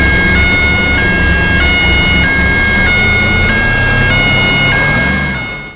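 A toy ambulance blares a loud electronic two-tone siren, alternating pitch in a steady cycle about every half second, close up and alone before it cuts off.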